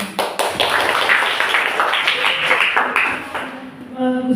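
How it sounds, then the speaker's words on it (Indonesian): A group of students receives a steady burst of clapping, many hands applauding together at close range for the full length, with a voice briefly talking near the end. "Sekali kita tepuk tangan untuk kelompok ini."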